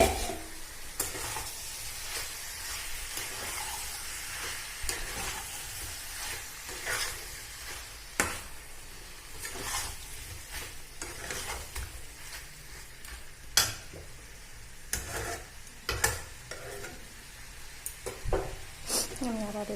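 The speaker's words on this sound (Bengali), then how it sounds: "আমি ঢাকনাটা খুলে আবার একটু নাড়াচাড়া করে নেবো যাতে কিছু বসে না যায়" Chicken kosha sizzles and fries in a pan while a spoon stirs and scrapes through it in irregular strokes, with occasional clinks against the metal and a person talking at times.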